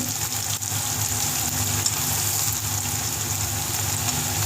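Steady, loud sizzling hiss of spices dropped into hot oil while frying garlic for a chicken and taro-root curry, continuous with no talk.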